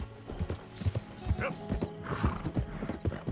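Horse in Red Dead Redemption 2 gives a whinny while its hooves clip-clop in a steady walking rhythm, close and moderately loud over a soft ambient bed.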